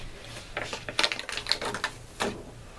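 A Cricut Explore Air cutter unloads its cutting mat with a quick series of clicking, rattling mechanical taps and a whirring feed motion, close and moderately loud.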